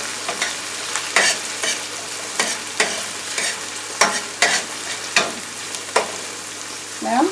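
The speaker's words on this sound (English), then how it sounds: "our onions and peppers have been cooking for about 3 minutes" Onions and peppers sizzle in a stir-fry pan for bourbon chicken and vegetables, a steady frying hiss broken by repeated bursts of stirring and scraping, up close and loud with no talking.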